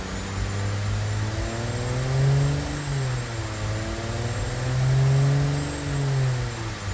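Turbocharged 1964 Ford 300 cubic-inch (4.9L) inline-six in the Automation game, revving in steady swells with a low droning tone that rises and falls twice, loud and close with no talk.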